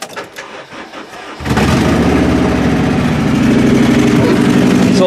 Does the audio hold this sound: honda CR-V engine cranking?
yes